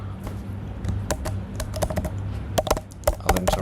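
Rapid clacking of keys as a website URL is typed on a computer keyboard, a close, uneven burst of clicks with short pauses, over a low steady hum and no talk.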